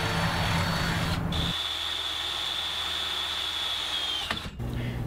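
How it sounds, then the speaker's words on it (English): A power drill whines steadily at high pitch, drilling mounting holes into a metal C-channel for a belt grinder for a few seconds before stopping, over constant workshop hum. "We'll drill a couple of mounting holes."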